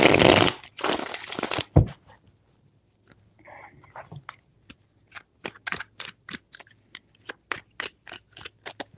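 Tarot cards are shuffled in a loud riffling burst, followed after a brief pause by a run of crisp, evenly spaced taps and snaps as the deck is handled, close and alone.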